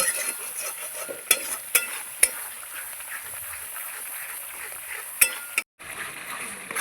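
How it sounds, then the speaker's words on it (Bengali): Spice masala with turmeric and salt frying in a pan gives a low, steady sizzle, with a few sharp clinks of a utensil against the pan and a short gap near the end. "দিয়ে দেবো লবণ, মশলাটা কিছুক্ষণ কষিয়ে নেব"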